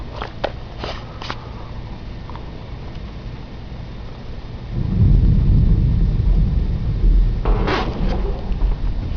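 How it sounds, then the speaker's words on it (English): Thunder rumbles in a thunderstorm, a deep low roll that swells midway and stays loud beneath a steady wash of rain, with a few sharp clicks and knocks nearby. "if you have thunderstorm rain right now"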